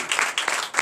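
A congregation applauds during a Sunday teaching and worship service in Comè, Benin, a brief burst of dense clapping in pulsing waves lasting under a second.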